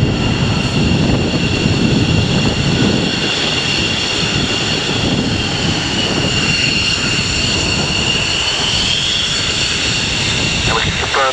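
Four F-15 jets from Lakenheath departing RAF Mildenhall produce a loud, continuous roaring engine noise that fills the whole stretch, with a voice talking over it.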